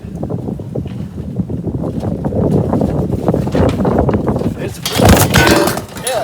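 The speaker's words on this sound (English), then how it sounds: "It's a breezy day today too, so sorry about that." Strong wind buffets the microphone outdoors on a breezy day, a loud, continuous rumbling roar with gusts swelling near the end.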